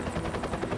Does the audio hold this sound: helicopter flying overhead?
yes